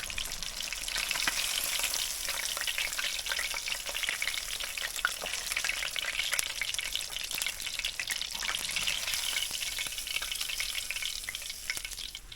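Largemouth bass fillets fry in a pan with a steady, dense sizzle and crackle that holds unbroken for about twelve seconds, close and fairly loud, with no one talking.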